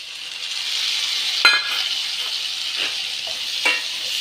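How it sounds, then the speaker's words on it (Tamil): Steady sizzling of tomatoes sautéing in a pan, with a few sharp scrapes of stirring breaking through. "நம்ம இது எல்லாமே வதங்கட்டும்."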